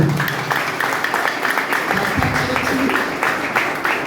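A church congregation in Addis Ababa claps together, a dense, continuous patter of many hands filling the room at fairly loud level, with a voice faintly mixed in.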